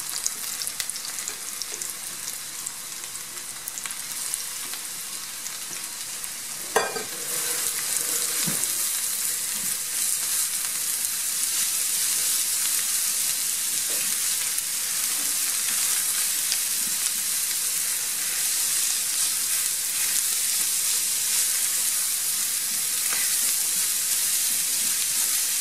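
Onion and carrot sizzle in a pan, cooked as the base for a cheese soup. The frying hiss is steady and close, with a brief clatter near the middle, after which the sizzle grows slightly louder and continues on its own.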